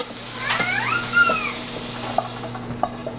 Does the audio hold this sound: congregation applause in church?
no